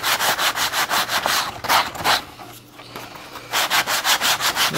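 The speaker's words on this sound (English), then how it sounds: "sand each wing." Rhythmic back-and-forth sanding strokes on a balsa model rocket wing coated with Elmer's wood filler sanding sealer, close and steady with a brief pause midway.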